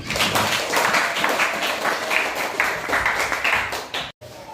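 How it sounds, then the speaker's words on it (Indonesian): Lively applause from a group, many hands clapping steadily for about four seconds before cutting off abruptly. "tepuk tangan buat Putri"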